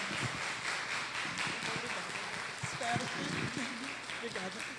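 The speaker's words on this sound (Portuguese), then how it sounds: "eu acho que ela merece ser aplaudida em pé" Quiet, steady applause from an audience after a talk on online dangers, a soft continuous patter of clapping with faint voices underneath.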